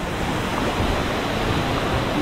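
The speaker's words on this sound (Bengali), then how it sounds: "দেখেন আমার পিছনে কত উঁচার থেকে নামতেছে ঝর্ণা" A tall waterfall in Sajek Valley, Bangladesh, gives a constant broadband roar of falling water, loud and close, steady from start to finish, with light wind and no talk.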